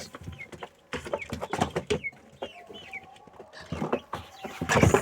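Frantic clucking and squawking from a flock of chickens and a rooster fighting over dropped bread, with bursts of flapping and scuffling, loud and close, rising into a noisy scramble at the end.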